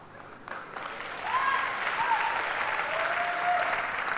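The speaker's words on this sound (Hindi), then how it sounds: "ये ज्यादा ताली बंगाली लोग मार रहा है।" An audience at a Hindi-language team-building talk breaks into sustained, fairly loud clapping that swells after a brief start and holds steady, with a few voices or whistles rising above it.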